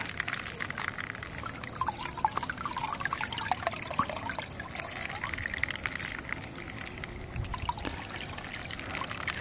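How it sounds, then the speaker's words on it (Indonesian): Mountain stream water flows and trickles steadily near a hiking trail camp on Mount Sumbing, a continuous splashing babble heard fairly close with no talking. "Ini aliran ya, aliran air."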